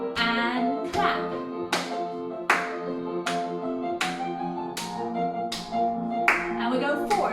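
Spaced hand claps land roughly once per second during a music and movement class for Parkinson's, sounding over sustained piano-like tones with a voice faintly present.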